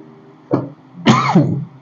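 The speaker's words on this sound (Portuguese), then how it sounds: "Perdão aí pela tosse" Two short, dry coughs, close and fairly loud, the second one a little longer, with quiet in between.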